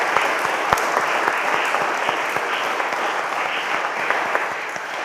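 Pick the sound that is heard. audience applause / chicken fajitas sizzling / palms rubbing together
audience applause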